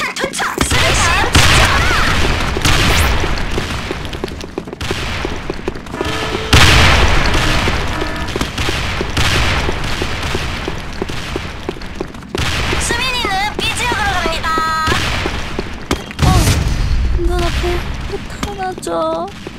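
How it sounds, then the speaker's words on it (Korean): Grenade throw and explosion in the shooter game Sudden Attack, amid constant loud gunfire, booming blasts and crashes through a busy firefight, with several heavy bursts standing out and game sounds layered on top. "수류탄 투척"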